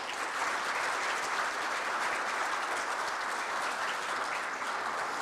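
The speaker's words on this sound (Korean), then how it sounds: "정세균 국회의장님을 큰 박수로 맞이해 주시기 바랍니다" A forum audience greets National Assembly Speaker Chung Sye-kyun with sustained applause, a thick, even wash of many hands clapping that stays at a constant level throughout, with no voices on top.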